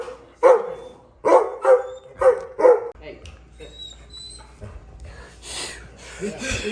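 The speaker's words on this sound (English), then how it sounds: "That dog does not like that." At an outdoor shooting competition, a dog lets out a run of five loud, sharp barks, then shifts into softer whimpers and yips, with a person talking over the later part.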